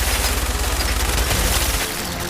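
Minigun blazing at enemies in Fallout 4, a loud, unbroken stream of rapid-fire shots that roars continuously, then drops slightly in level near the end.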